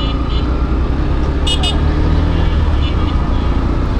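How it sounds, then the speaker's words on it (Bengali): Dense road traffic rumbles around a Yamaha motorbike in a jam, a loud continuous roar of engines with a brief horn toot, while someone talks over it. "মানে এইখানে রাস্তাঘাটের জ্যামটা মারাত্মক।"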